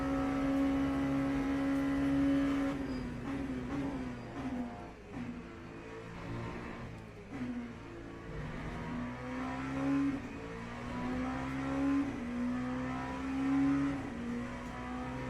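Race cars in the Le Mans Ultimate racing game, a steady engine drone rising and falling through gear changes and revs, with a faster car closing in, heard alone without talk.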